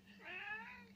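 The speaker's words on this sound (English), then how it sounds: "I just like to hear you meow." A single cat meows once, a short rising-and-falling call, quiet and fairly close, with no other sounds around it.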